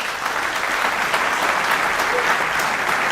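An audience at a Minnesota gubernatorial debate claps steadily, a dense, even wash of applause filling the room without pause for the full stretch.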